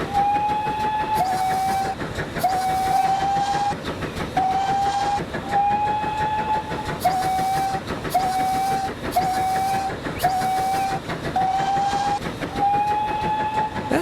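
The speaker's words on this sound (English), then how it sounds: "There are 3 different whistle noises for this." Video game train whistles from Transport Fever 2 sound over and over in short, evenly spaced toots against a steady rumble of a moving train, loud and close.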